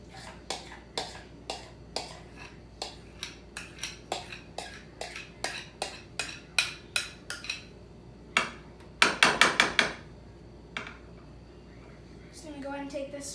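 A spoon knocks and scrapes against a dish while scooping seasoned ricotta cheese onto zucchini lasagna. The sharp clinks repeat at a steady pace, build into a brief cluster of louder clatter, and then fade.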